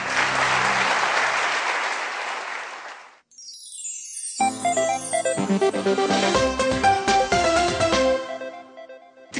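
Loud, sustained applause from a Turkish television studio audience for about three seconds, then a bright musical jingle with chimes and beats takes over.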